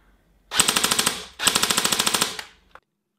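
An older electric airsoft gun fires two long full-auto bursts of about ten rapid shots each, with the gearbox cycling close and loud, followed by a faint click.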